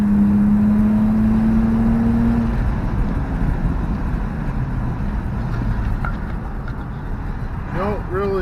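A BMW 328i with the muffler deleted is floored with the windows down. A rising engine tone fades into a broad roar of rushing wind and road noise, with faint squeaks near the end.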